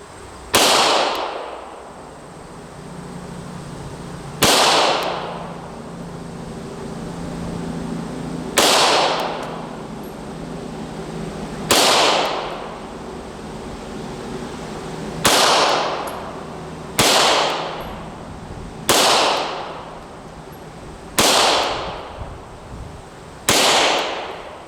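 A Glock 17 Gen 3 pistol fires nine sharp, loud shots at an uneven, deliberate pace, each crack followed by a brief echo outdoors on a range.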